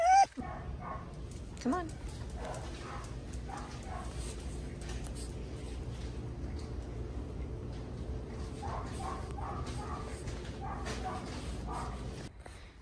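A dog whines and yips with a few short barks, eager to go out, while a person talks nearby over steady background noise.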